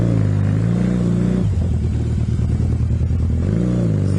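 A Honda CB250 motorcycle, still a little cold with the choke on, pulls away in first gear, its engine loud and close, rising in pitch, dipping as it settles, then revving up again.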